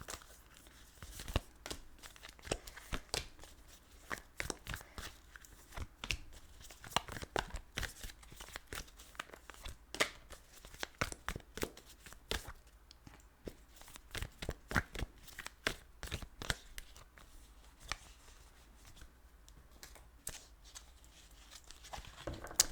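Tarot cards are shuffled and dealt out by hand: a long run of soft papery flicks, riffles and light slaps, close and quiet, with no talking.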